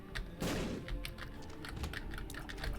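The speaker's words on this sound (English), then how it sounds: "Because I was going to blow the door open is why." A bomb blasts in The Binding of Isaac Afterbirth+, a short loud burst that quickly fades, followed by quieter game effects and clicks.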